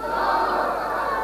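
A large crowd at a religious gathering chants back in unison after the Nara-e-Takbeer slogan, a loud, dense roar of many voices sustained through the short clip.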